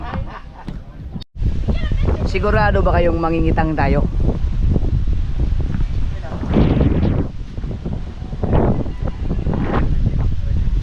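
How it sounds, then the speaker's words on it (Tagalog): Strong wind out at sea buffets the microphone on a boat, a constant low roar and rumble heard under people talking and shouting. "Tapos ganyan kalakas ang hangin sa laot."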